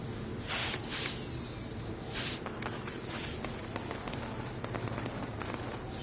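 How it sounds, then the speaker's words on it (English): Fireworks in the WWE 2K20 video game, with several whistling rockets shrieking upward followed by crackling bursts and pops, fairly quiet overall and no talking. "we'll get to see some cool fireworks"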